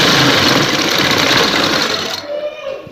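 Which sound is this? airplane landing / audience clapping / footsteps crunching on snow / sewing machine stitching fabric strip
sewing machine stitching fabric strip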